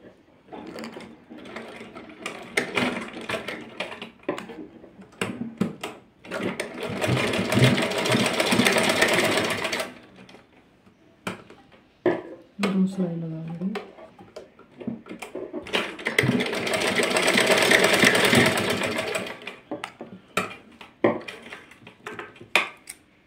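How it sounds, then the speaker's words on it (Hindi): A sewing machine stitches a small summer dress for a Laddu Gopal idol in two long, steady whirring runs, separated by quiet handling of fabric and small clicks between the passes. "अब ये देखिए इस तरह इसको पहले सिलाई लगा लेंगे हम यहाँ से"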